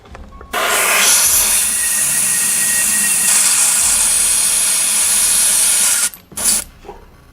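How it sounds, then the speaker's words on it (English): An airbrush sprays airbrush medium through to clean the tip, a loud, steady close-up hiss lasting about five and a half seconds before cutting off, followed by a brief second short burst. "I'm just going to run some airbrush medium through it first"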